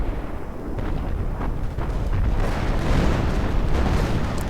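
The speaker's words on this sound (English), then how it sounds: "I think that was the sector artillery getting their own Panzer Grenadiers." Artillery barrage in a real-time strategy video game set in the Second World War, a dense rumbling wall of overlapping booms and blasts, loud and continuous with no voices over it.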